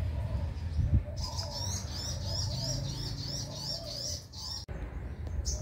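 Caged birds chirp and trill repeatedly nearby in a rapid, warbling pattern, with a low rumble of background noise underneath, outdoors beside a fence near a road.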